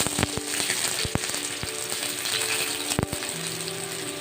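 Onion sizzling and being stirred in a hot pan for a vegetable stir-fry, a steady frying hiss with several sharp clicks of the utensil against the pan.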